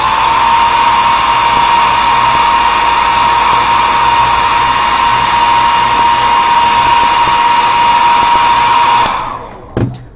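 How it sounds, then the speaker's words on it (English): A blow dryer runs steadily and loud at close range to dry a freshly painted surface, holding a constant whine for about nine seconds before switching off with a brief clatter at the end. "Hit it with the blow dryer."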